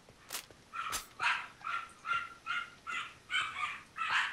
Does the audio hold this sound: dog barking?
yes